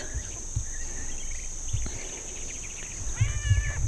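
A cat gives a short, clear meow near the end, outdoors in a homestead garden, with insects trilling steadily in the background and faint rustling nearby.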